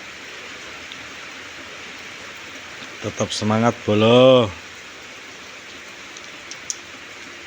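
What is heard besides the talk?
rain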